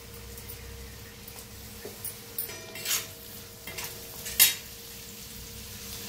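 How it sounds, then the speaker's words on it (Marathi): Onions and tomatoes fry together in a pan, a low steady sizzle with occasional stirring scrapes and a couple of louder utensil knocks toward the end, no voices heard. "तर करून भाजून घेऊया टमाटोला बी कांद्याला बी।"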